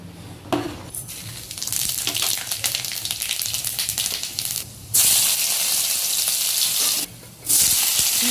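Khichuri made with masoor dal sizzles steadily in a hot pan, a loud, continuous frying hiss that briefly drops away twice before surging back even stronger.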